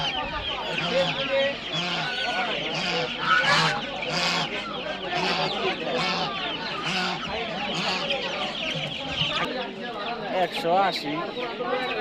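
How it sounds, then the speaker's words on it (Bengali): A crowded chorus of peeping tiger chicken chicks at Savar Nama Bazar poultry market fills the air continuously, shrill and busy, with some low murmuring voices in the background. "এই যে এখানে প্রচুর পরিমাণে টাইগার মুরগির বাচ্চা আছে"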